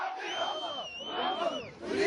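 A crowd of Muammar Gaddafi's supporters in Libya shouts and chants in a sustained, dense roar, loud and close, with voices rising and falling over about two seconds.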